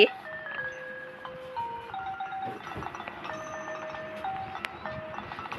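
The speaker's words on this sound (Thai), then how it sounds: "ดนตรีไทยเข้าบรรยากาศแบบนี้มากเลยนะฮะ" A light, tinkling Thai melody of plucked and chimed notes plays at moderate volume in a Roblox game over a busy background hiss, with bits of soft talk underneath.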